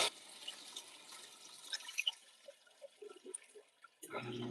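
Water sloshes and trickles inside an LG ThinQ MEGA Ultimate washer during the first rinse cycle, faint and intermittent with small drips and splashes, with a louder surge of water at the end.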